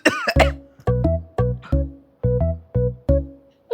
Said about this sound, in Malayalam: ഇത് ഒറിജിനൽ ചുമയാണെന്ന് തോന്നുന്നുണ്ടല്ലോ